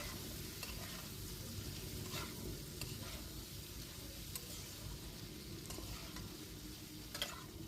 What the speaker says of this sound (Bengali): বেশ কিছুক্ষণ ধরে সবজির সাথে এভাবে মিশিয়ে একটু সবজিগুলো ভেজে নিতে হবে।